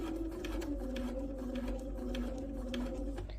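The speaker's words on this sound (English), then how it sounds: "I'm going to stitch this, I'm going to back stitch, and then I'm going to straight stitch all the way" A sewing machine running steadily, stitching fabric with a continuous whirring hum and rapid needle patter for the whole stretch, close by and moderately loud, nobody speaking.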